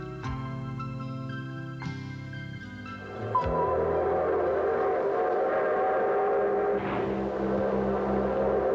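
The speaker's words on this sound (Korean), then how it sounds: "기적을 울리며 우리를 고리짓게 하던 기차" A train's whistle sounds with steady sustained tones, then the rumble and clatter of the moving train takes over, moderately distant.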